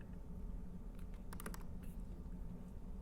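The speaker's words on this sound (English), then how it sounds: "Say we type something over here." Someone types on a computer keyboard: a short, quick burst of a handful of clicking keystrokes, close and fairly soft over a low room hum.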